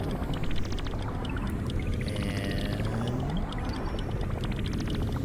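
Water drains and swirls away inside the Water Temple of Zelda: Tears of the Kingdom, a steady pouring, gurgling wash with faint whooshing, rising tones above it, and a brief spoken word at the start.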